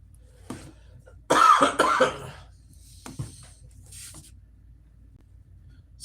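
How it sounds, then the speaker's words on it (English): A man coughs during a live vlog, a few dry bursts close to the microphone in a quiet room, followed by fainter throat sounds. "Sorry for the coughing."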